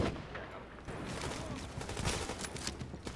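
Rapid gunfire from a shooter video game mission at Grand Central Station on hard difficulty, with dense overlapping bursts of shots crackling continuously throughout.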